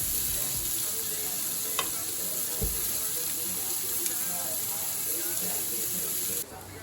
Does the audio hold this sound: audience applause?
no